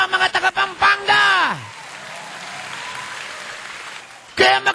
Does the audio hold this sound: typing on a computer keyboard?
no